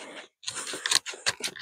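Scissors or a blade cut through the soft rotten parts of a cactus, giving several short, close, crunchy snips in quick succession after a brief pause.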